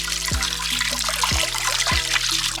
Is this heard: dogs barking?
no